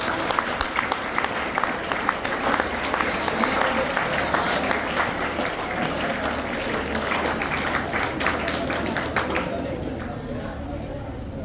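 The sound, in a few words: audience applause at a farewell ceremony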